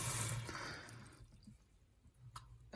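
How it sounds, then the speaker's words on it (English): Water pours and drips out through the bottom of a Phox water filter, a broad splashing wash at first that thins to scattered faint drips and a final burst. "it's just pouring out from the bottom, which is where it should be coming from"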